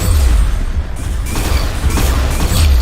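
Video game gunfire, a burst of loud booming shots and rattling crashes close up, filling a short few seconds with no talking.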